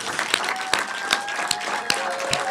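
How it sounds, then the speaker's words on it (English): A small group claps steadily for a couple of seconds, the applause light and slightly distant, with a faint tone running underneath. "So give yourselves a round of applause."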